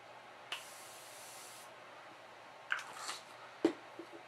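A soft, steady hiss of aerosol face setting spray lasting about a second, followed by a few faint clicks and rustles in a quiet room.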